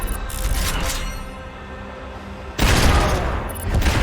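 Barrage of gunfire in the Max Payne 3 video game, a dense continuous fusillade of shots and booms with a sharp louder burst partway through, loud and close with no talk.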